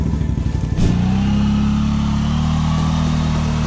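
A BMW X6 engine runs close by at a steady idle, a low continuous hum with a smooth drone and faint rattle, without talk.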